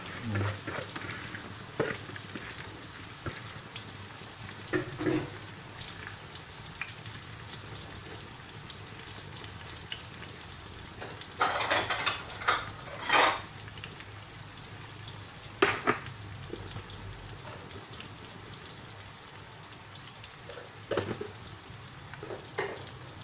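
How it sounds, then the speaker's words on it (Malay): Twelve onions frying in a pan for sambal tumis, a steady close sizzle with a few louder bursts of stirring and spatula scrapes, no talking. "Okey, kita layukan bawang dulu."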